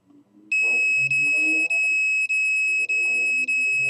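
An electronic detector sounds its over-limit alarm: a loud, piercing continuous tone broken into about six evenly spaced pulses, with a faint voice murmuring in the background.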